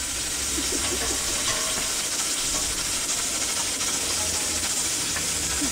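A steady broadband hiss of a pork dish bubbling and steaming in a pot, continuous and close, with faint clinks and no voices.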